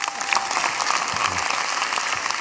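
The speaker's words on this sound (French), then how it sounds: "On applaudit Super Papy France." A comedy show audience applauds in a dense, continuous burst of clapping from a crowd, fairly loud and steady for a couple of seconds.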